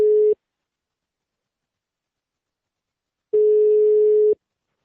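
Telephone busy tone after the other party hangs up: steady single-pitch beeps, one short burst at the start and a longer one about three seconds later, separated by silence, clear and alone.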